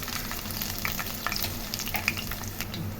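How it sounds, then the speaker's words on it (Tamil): Ginger and green chili sautéing in hot oil in a pan, a steady close sizzle with faint crackles and occasional light stirring clicks, no voices. "இஞ்சி பச்சை மிளகாய் 2த்தையும் போட்டு நல்லா வதக்கிடுங்க"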